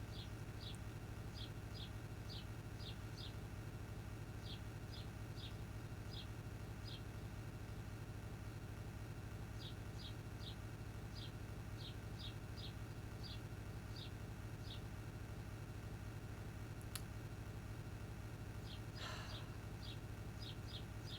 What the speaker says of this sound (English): Gotta make sure the bird sounds don't put me to sleep again.